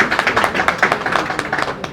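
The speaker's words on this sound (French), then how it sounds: "C'est rassurant d'entendre les applaudissements." An audience applauds during a ministerial visit to a Senegalese microfinance association, a brisk, fairly close patter of many hands clapping in irregular rhythm, with no talking over it.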